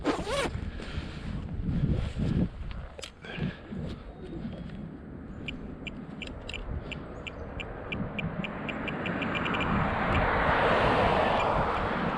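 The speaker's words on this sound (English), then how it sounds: "I got to zip up my coat." A coat zipper is pulled up outdoors: a short run of rapid ratcheting zip clicks over steady wind and microphone rumble, with a faint rushing swell building toward the end.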